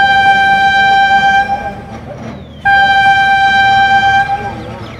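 A train horn at a railway station in Dera Nawab Sahib, Pakistan, sounds long and loud, drops briefly and then sounds again in a second sustained blast, with platform noise beneath it.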